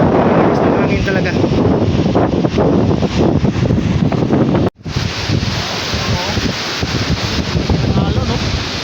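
Strong wind roars steadily and loudly against the microphone, a broad rushing noise that drops out briefly midway, then continues slightly softer.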